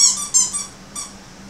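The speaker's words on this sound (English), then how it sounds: "Look, it's squeaky chicken." A squeaky chicken dog toy squeezed a few times among German Shepherd puppies, giving short high-pitched squeals in quick bursts, close and fairly loud, with no talking.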